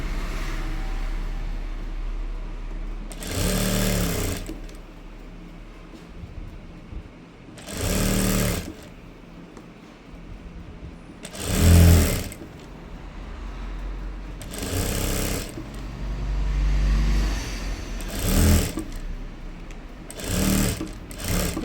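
A sewing machine stitches a pleated skirt, folding and sewing down each side, in several loud bursts of rapid whirring separated by short pauses.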